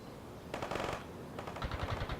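Bursts of gunfire in the video game World in Conflict, a short rattling volley followed by a second quicker string of shots over low battle noise.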